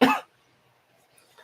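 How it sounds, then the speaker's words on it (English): A single short, loud cough up close, followed by near silence and a faint breath at the end. "Apart from if I laugh, I cough."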